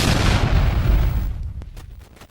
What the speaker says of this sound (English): Another deafening blast cut him off, and the log ended abruptly